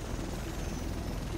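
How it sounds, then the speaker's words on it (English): Osprey helicopter in the video game The Division, a low, steady rotor and engine drone heard at moderate distance throughout, with no talking. "The rest of us should be in this chopper."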